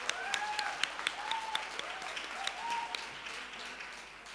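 Children in a junior church gathering in Dubai clap as an offering to Jesus. The steady, moderately loud applause runs throughout, with faint voices mixed in.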